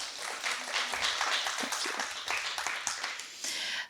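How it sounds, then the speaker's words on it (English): Clapping from a museum panel audience for the camera crew, a moderately faint, uneven patter of hands with a few distinct claps standing out, fading near the end. "Can we give them a round of applause?"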